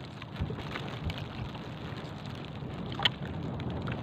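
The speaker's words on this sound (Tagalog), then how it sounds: "Umulan na naman" Rain begins to fall outdoors during traditional handline fishing off Guiuan, a soft, even patter of drops heard nearby with a few slightly louder taps, no talk over it.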